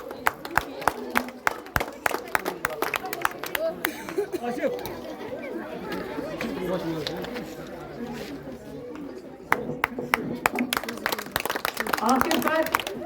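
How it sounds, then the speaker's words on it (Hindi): Enthusiastic applause and cheering from a crowd of schoolchildren greets the winner of a school secretary election, with sharp claps at the start and end and a chattering crowd swelling in between. "उवैस अशरफ जिन्होंने आज का इलेक्शन जीता है, तो जोरदार तालियों के साथ इसका स्वागत किया जाए।"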